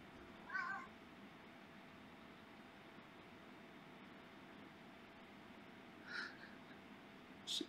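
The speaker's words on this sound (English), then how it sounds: "This is a typical cat." A domestic cat gives a few short, faint meows at the start and again near the end, spaced apart over a quiet room hum, with no talking.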